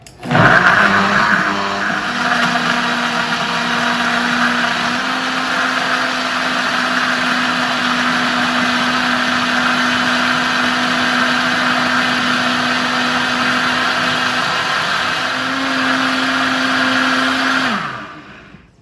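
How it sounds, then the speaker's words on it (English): A blender making a pineapple smoothie whirs loudly and steadily at close range for a long stretch, its motor pitch shifting slightly before winding down at the end. "I've sent her a few videos of the whir of the blender"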